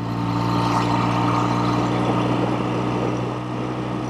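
A vintage BSA Thunderbolt motorcycle cruising in fourth gear, its engine a steady, deep, rumbling drone under a wash of wind noise that holds evenly throughout.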